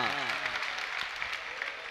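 An audience clapping during a Jain sermon gathering, steady dense applause at moderate distance lasting throughout, with a voice speaking faintly underneath.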